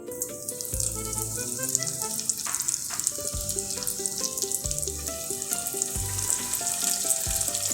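Homemade breaded chicken fries in oil with a constant, bright crackling sizzle. Melodic music plays underneath the whole time.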